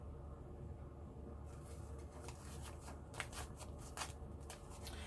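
Scissors snip through a card for a mixed media project, a quiet series of close crisp cuts that follow a stretch of near silence.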